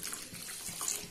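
Water is poured into a cooking pot holding sugar and jaggery while making sweet pongal, a short, steady, fairly quiet splashing stream.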